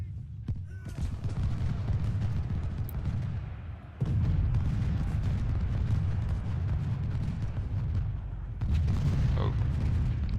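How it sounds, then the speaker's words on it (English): Enemy artillery fire in Ultimate General: Civil War, a continuous stretch of deep booming cannon blasts and rumbling explosions rolling together at steady loudness, with battle noise throughout. "Alright, so we have enemy artillery coming in."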